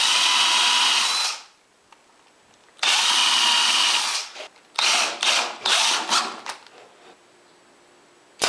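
Power drill driving drywall screws into pine wood during a wardrobe build, with long loud whirring runs followed by several short bursts of the motor as the screws seat, with no voices.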